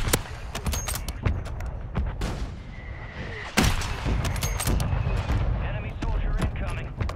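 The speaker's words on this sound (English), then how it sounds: "Mortar strike is inbound." Mortar strike in a military shooter: scattered sharp blasts and crackling impacts, one heavy boom midway, followed by continued rumbling detonations at mid distance.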